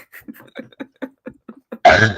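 A single loud, harsh cough bursts out at the end, following a run of short, quiet, evenly spaced clicks or taps.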